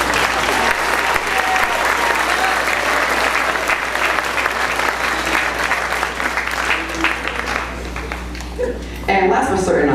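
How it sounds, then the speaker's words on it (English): Sustained, dense applause from a school band concert audience at a middle school winter concert fills the room for several seconds, loud and even, then tapers and breaks up near the end. "Let's give them a round of applause."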